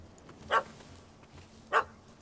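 Two sharp dog barks from a puppy in the Witcher 3 video game, spaced about a second apart, moderately close over a low, quiet background hum.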